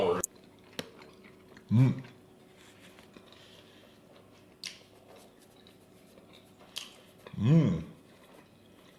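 Someone chews a first bite of food, producing quiet, soft mouth sounds broken by two hummed, appreciative murmurs.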